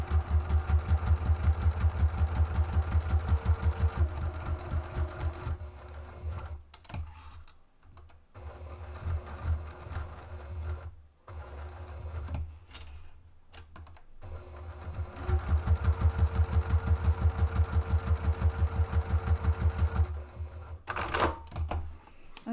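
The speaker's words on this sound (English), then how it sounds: "I'm just going to put that up on the machine and stitch my little" A sewing machine stitches a box onto a bag in steady rapid bursts, pausing briefly midway for repositioning, then running again, with faint handling noises in the gaps.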